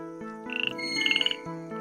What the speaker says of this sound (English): A frog.